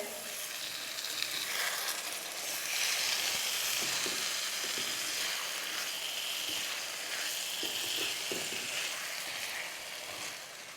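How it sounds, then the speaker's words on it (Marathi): Cauliflower florets and green peas stir-fried with salt and spices in a pan give off a steady, dense sizzle, with light scraping of a spatula now and then and no voices. "आपल्याला हे व्यवस्थित असं परतवून घ्यायचं आहे"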